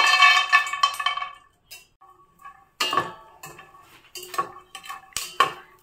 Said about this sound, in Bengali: একই তেলে আমি কিছুটা পরিমাণ চীনা বাদাম ভেজে নিব